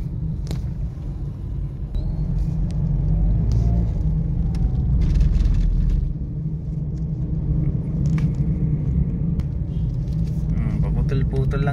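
A small three-cylinder Mitsubishi Mirage drives along with a steady, low engine rumble and road drone, heard from inside, continuous throughout.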